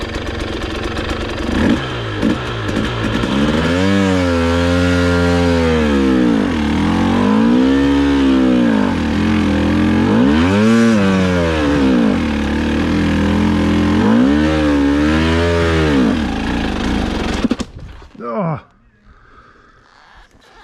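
A vehicle engine revs hard in second gear while climbing a hill, rising and falling in several loud, close pulls before cutting off abruptly near the end.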